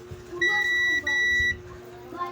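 A buzzer on a Bluetooth speaker under repair sounds two steady, shrill beeps of about half a second each, close and clear against faint room noise.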